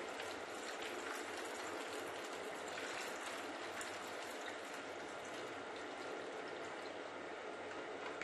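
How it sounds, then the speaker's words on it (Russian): Brine poured over cucumbers in a plastic bottle, a steady, faint splashing rush of liquid that runs unbroken throughout, with no talk. "Теперь берем и заливаем огурцы рассолом."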